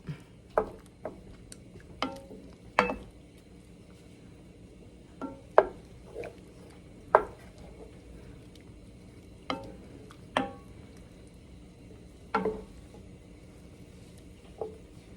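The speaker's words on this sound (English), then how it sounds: "We are just going to stir this around and let it cook until that butter is melted." Butter melts in a pan while a spoon stirs it, for a creamy garlic, spinach and sausage pasta; sparse soft taps and scrapes come at irregular moments over a quiet background.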